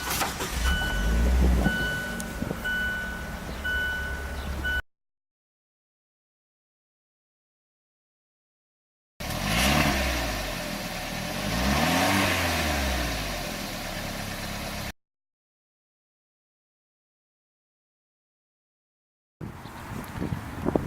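A 2017 Fiat 124 Spider with a 1.4 liter turbocharged engine runs in three separate stretches broken by dead silence, its engine hum and rushing road noise rising and falling, loud and close.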